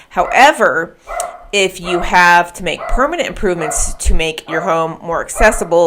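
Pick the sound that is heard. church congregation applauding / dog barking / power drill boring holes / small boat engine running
dog barking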